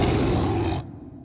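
A big cartoon cat in PAW Patrol lets out a loud, close roar that holds for under a second and then cuts off abruptly, followed by quiet.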